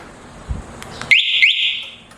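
A Motorstar Easyride 150P motorcycle alarm answers an unlock with a soft click, then two rising electronic chirps followed by a sustained high beep, loud and close.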